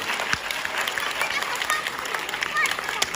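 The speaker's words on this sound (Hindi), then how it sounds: "एक जोरदार ताली हो इनके लिए।" An audience claps for a student receiving a monthly best-student award, a steady wash of applause running through the whole moment at moderate distance.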